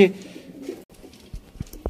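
Ferozpuri and Kamagar pigeons coo close by in soft, low murmuring calls, with a few short throaty pulses near the end, while someone talks over them.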